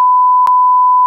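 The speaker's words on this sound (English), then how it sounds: "Don't that guy's backup alarm set them off." A vehicle's backup alarm sounds during a bison herd encounter on a road, giving a loud, steady electronic tone in three evenly spaced beeps about half a second apart, alone with no talk.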